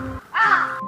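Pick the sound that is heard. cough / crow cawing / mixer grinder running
crow cawing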